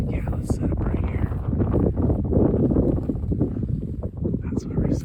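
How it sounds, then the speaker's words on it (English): Strong, gusty wind buffets the microphone outdoors on a Utah elk hunt, a rough, fluctuating rumble with people speaking over it. "this wind is brutal"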